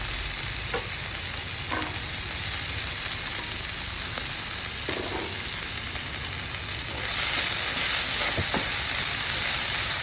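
Ground spices and fenugreek frying in a pan, a steady loud sizzle and hiss with occasional stirring scrapes, the sizzle swelling louder near the end.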